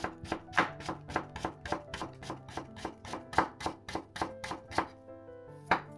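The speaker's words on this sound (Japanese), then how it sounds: "皮は細切りかみじん切りにします。" A knife chops daikon radish peel into thin strips on a cutting board, with about twenty crisp, evenly paced taps in a steady rhythm, close and fairly quiet, briefly pausing near the end before a final cut.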